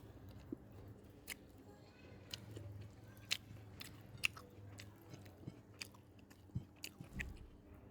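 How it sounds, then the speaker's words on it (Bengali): Close, quiet crunchy bites and chewing of fried pointed gourd slices, with sharp crisp crunches at irregular intervals over a soft low background. "তো এখন খাচ্ছি পটলের চাক ভাজি।"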